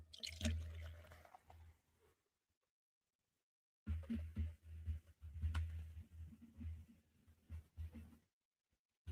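A chilled Pruvit drink pours in two quiet splashing bursts separated by a short silence, with close, soft liquid gurgles and drips.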